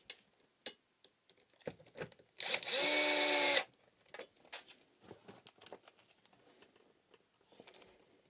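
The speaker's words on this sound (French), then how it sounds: "Pour ma part, je vais prendre ma petite perceuse, ça ira beaucoup plus vite." A small drill whirs in one loud burst of about a second while driving screws into a Flexispot E7B standing desk, surrounded by scattered clicks, taps and handling knocks of assembly.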